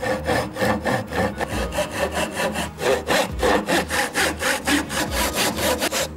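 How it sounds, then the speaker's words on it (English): A hand saw cuts down marked lines in wood for a bridle joint, giving steady, rhythmic rasping back-and-forth strokes, close and clear, with no talk. "I'm going to saw down these two lines."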